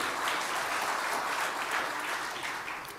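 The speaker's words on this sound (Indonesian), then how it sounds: "Tepuk tangan untuk Pak Nana, berkat beliau" Audience applause during a Central Java governor's evening speech: a large crowd claps in a continuous, even wash that holds steady, then eases slightly at the end.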